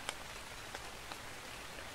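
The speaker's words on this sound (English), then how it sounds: "And a perfect time for the rain." Rain falls in the video game Ark as a soft, steady hiss with a few faint droplet ticks, quiet and alone.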